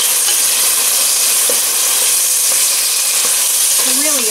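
Pot roast beef caramelizing in a hot pot crackles with a loud, dense, continuous sizzle and hiss, with occasional pops and a faint tonal whine near the end.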